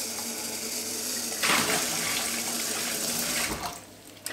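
Running tap water splashes close by while a blender lid and its small propeller blade are rinsed, swelling suddenly partway through and then cutting off near the end.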